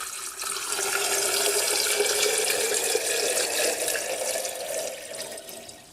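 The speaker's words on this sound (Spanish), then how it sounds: "lo vamos a llenar de agua" Tap water pours steadily into a glass jar holding a 200-gram weight, a close, bright rushing splash whose pitch rises slightly as the jar fills, then tapers off at the end.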